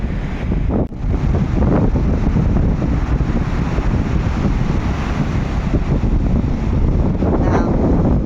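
A stormy sea at Anapa sends steady wind roaring and surf crashing, a loud continuous rush with heavy buffeting on the microphone throughout.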